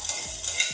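Minced garlic sizzles as it sautés in a pan while being stirred, giving a short, close, steady frying hiss with faint scrapes of the utensil and no talking.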